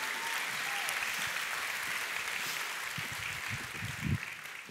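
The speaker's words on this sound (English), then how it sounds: "Let's give them a round of applause as they go." A church audience at a back-to-school weekend service claps in sustained, fairly even applause that rises slightly near the end, heard from a moderate distance with faint voices mixed in.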